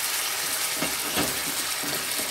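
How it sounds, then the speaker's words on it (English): Beef sizzles in a hot pan, a steady broadband hiss of frying with a few louder spitting bursts, close and continuous without speech. "So, let's cook the beef, okay?"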